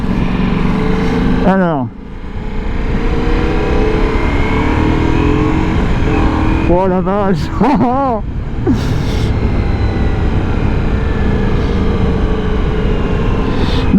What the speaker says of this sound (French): Mais là déjà je viens de tourner la poignée des gaz, c'était juste génial.